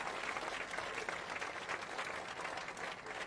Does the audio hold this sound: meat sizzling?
no